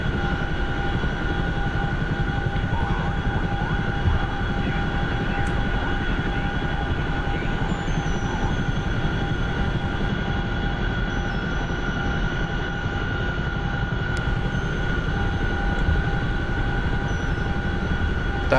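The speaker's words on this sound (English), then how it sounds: "That was just 2 Chinooks flying by each other" Two Chinook helicopters pass each other in a war video game, producing a steady, loud rotor and engine drone with constant tonal hum that fills the whole stretch without letup.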